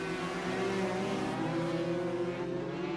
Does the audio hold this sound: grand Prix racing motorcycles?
yes